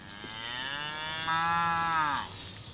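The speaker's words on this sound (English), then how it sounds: "they are mooing and they're coming and lining up because they know that now they will receive their supplemental feed" Cattle on a farm mooing repeatedly while gathering and lining up for supplemental feed, several long, loud, overlapping lowing calls close by with no talk.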